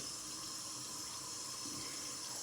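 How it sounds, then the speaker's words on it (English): Tap water runs steadily as soap is rinsed off a face, a constant close hiss of flowing water with no voices. "Just rinse that up real quick."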